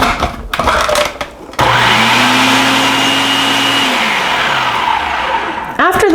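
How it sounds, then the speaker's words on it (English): A food processor mixing flour, sugar and salt: after some brief handling noises its motor kicks in with a loud, steady whirring drone that holds for several seconds, then cuts off. "I'm just going to turn the food processor on just quickly to incorporate these"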